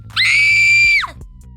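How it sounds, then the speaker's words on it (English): A single loud, piercing scream from a stabbing scene in an audiobook, held for about a second before breaking off abruptly, followed by quiet. "Ali screams."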